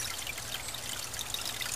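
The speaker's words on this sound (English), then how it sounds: "So do you like the big flush?" Water rushes steadily through a 3-inch FLOUT floating outlet siphon, a continuous close pouring flush with no pauses.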